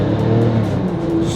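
A Porsche 911 997 Turbo accelerates with a steady, loud engine drone that holds for a short stretch, no voices.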